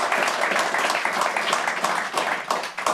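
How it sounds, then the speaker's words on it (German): Close, lively clapping from an audience honoring two guests at a public event, brisk individual claps blending into a full round of applause throughout. "Ihnen beiden einen Applaus."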